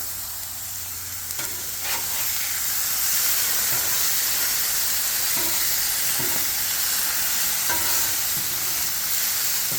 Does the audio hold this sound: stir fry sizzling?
yes